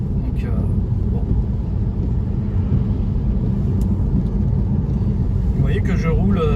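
A Tesla drives along the road, its steady low rumble of tyres and road noise filling the cabin evenly and continuously from close by, with faint higher sounds near the end.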